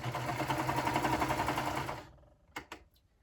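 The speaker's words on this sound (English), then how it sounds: "So I will put my presser foot down there, sew the seam, keep everything lined up." A sewing machine runs a seam in a fast, even stitching whir for about two seconds, close and clear, then stops, followed by a couple of short clicks and handling sounds.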